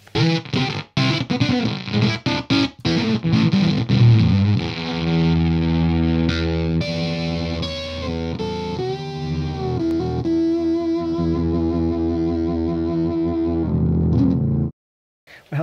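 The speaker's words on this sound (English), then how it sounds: "I just love that kind of crushed, compressed," Heavily gated, crushed and compressed fuzz distortion from a guitar pedal, with choppy stabs at first, then sustained dense chords that cut off abruptly near the end.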